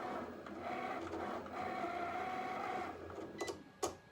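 A vinyl cutting machine working through heat transfer vinyl on a cutting mat gives off a steady motorized whir with a faint tonal hum, then stops with a couple of clicks and a mechanical clunk, close by with no talking.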